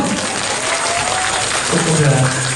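An audience at a Bangkok press conference for the WOODZ world tour applauds in a dense, steady wash of clapping, with people talking over it.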